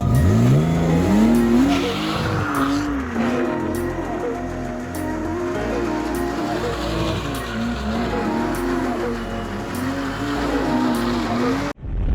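A BMW drifts sideways with its engine revving hard, loud rising and falling engine tone over continuous tire squeal, sustained and close, cutting out abruptly at the end.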